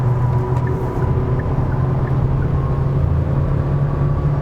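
Inside a facelifted Hyundai Tucson with a 2.0 diesel engine, Htrac all-wheel drive and an 8-speed gearbox, a steady, muted low drone carries on evenly while driving, with no talking over it.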